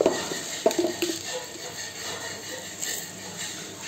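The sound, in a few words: tempering spices (dals, cumin, mustard seeds) sizzling in hot oil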